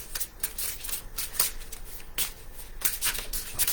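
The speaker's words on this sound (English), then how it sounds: "Just still putting the cards out." Tarot-style reading cards are laid out on a table, giving soft rustling and sliding with a few sharper flicks and slaps at irregular intervals, close up, with no voices.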